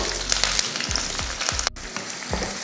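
Onion with dried red and green chillies fries in oil with spluttered mustard seeds and curry leaves, a close hissing sizzle with spatula scrapes and a brief break partway, no talking.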